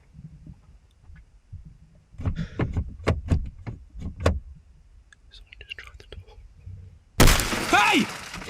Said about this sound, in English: Someone smashed his window.